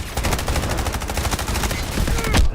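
Rapid, loud bursts of weapon fire dominate a Delta Force video game firefight, with a grenade launcher going off amid a dense, continuous rattle of gunshots close by.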